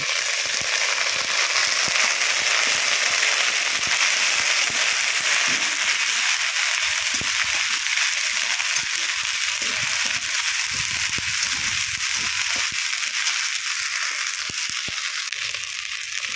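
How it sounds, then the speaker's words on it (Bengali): Onion, garlic and ginger paste fries in a pan while being stirred, making a loud, continuous broadband sizzle with scattered crackles and pops for the whole stretch. No voices are heard. "আদা বাটা দিয়ে খুব সুন্দর করে নেড়ে চেড়ে নেব"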